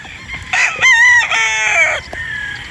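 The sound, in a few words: chickens, rooster crowing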